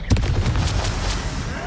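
The Expelliarmus spell fires in Hogwarts Legacy with a sharp burst-like crack followed by several quick percussive impacts and a rumbling tail, loud and close.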